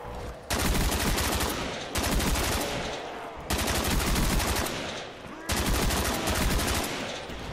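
An RPK machine gun fires in Black Ops III Zombies, loud sustained automatic bursts in four long strings separated by brief gaps.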